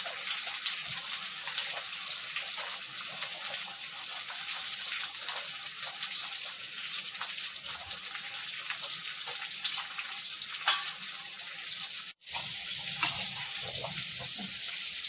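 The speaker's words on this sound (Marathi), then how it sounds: "माशाच्या कढीत चांगली उकळी इली आणि मासे पण चांगले शिजले होते" Fish curry with kokum and fish pieces added boils in a pot, producing a continuous close bubbling and sizzling simmer that runs evenly throughout, with one brief dip near the end and no talk.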